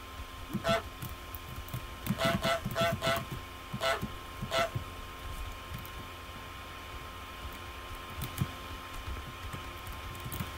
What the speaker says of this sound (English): and then I honk to get her attention.